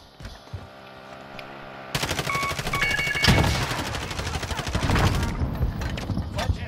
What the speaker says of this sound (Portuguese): Tomando tiro de sniper, tô tomando tiro das costas, mano.